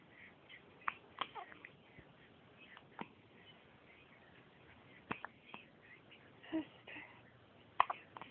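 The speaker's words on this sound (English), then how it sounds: "Someone's got the hiccups." A person's hiccups come as several short, sharp bursts scattered irregularly over a quiet indoor background, fairly faint and with no talking.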